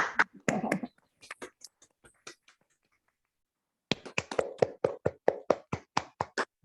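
Sparse, uneven hand claps from a few participants come through open microphones in an online seminar. They follow a short stretch of talk and a pause, and sound like separate close, dry slaps rather than a full crowd.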